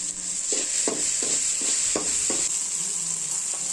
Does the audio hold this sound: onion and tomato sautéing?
yes